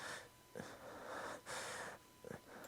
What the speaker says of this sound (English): I'm tired of this panting.